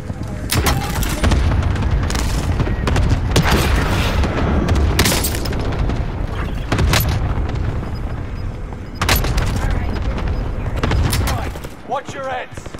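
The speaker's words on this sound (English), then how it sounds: "Mark target for airstrike. Got your request. Cluster strike is active." Cluster airstrike explosions in the video game Fortune's Keep: a series of heavy, loud booms mixed with gunfire rumble over several seconds, with voices speaking between the blasts.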